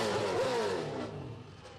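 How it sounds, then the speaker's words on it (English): A Trans Am race car engine at Sebring International Raceway revs briefly after a race, a loud rising-and-falling snarl that fades away toward the end. "Chris Dyson's still revving the car."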